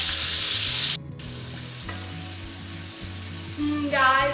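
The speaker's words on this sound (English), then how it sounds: "As this butter melts, you want to be basting the butter over the steak." Steak fries in a pan with melting butter and garlic being basted over it, steady close sizzling with faint spoon and pan clinks and a brief break in the hiss.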